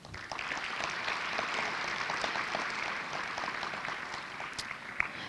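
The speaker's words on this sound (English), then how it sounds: "please join me welcoming them with a warm round of applause" Warm, steady applause from an audience welcoming officials at a career fair opening ceremony, many hands clapping evenly at a moderate distance for several seconds without talk.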